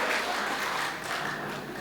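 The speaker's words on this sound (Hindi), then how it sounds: "एक बार जोरदार तालियों से आप मजा लें" An audience at a Hindi comedy poetry event breaks into applause, a dense, steady patter of many hands clapping, moderately loud and continuous throughout.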